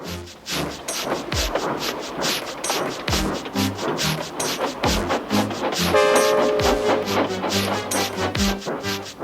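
Steam engines Gordon and Edward labour uphill pulling a train, with loud rhythmic chuffing and rattling carriages, broken by a whistle-like tonal passage midway, all alone without voices.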